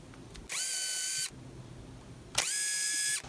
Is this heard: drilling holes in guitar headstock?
yes